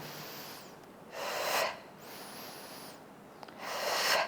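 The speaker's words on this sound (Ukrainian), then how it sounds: "Все зібрали і вдих, видих." A person breathing in and out during a morning exercise routine: three broad, airy exhalation bursts, near and moderately loud, alternating with quieter inhalations, no talking.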